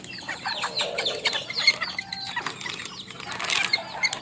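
Micro Serama chickens cluck and chirp at feeding time, a busy scatter of small bird calls with soft rustling and flapping, fairly close and with no talk.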